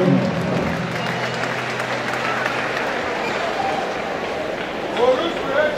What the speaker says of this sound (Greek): Ζεστό χειροκρότημα.